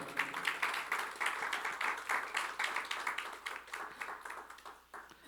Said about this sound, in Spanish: Denle un fuerte aplauso al Señor ahí en su lugar.